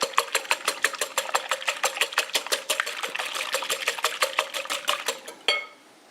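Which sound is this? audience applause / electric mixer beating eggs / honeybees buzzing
electric mixer beating eggs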